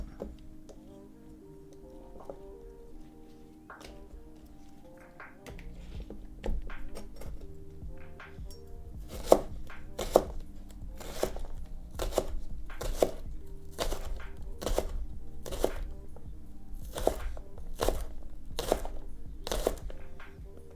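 Shallots chopped with a knife on a board: quiet handling at first, then a run of sharp, evenly spaced chops close by, alone and without talk.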